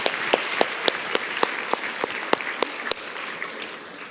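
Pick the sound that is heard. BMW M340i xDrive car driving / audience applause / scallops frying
audience applause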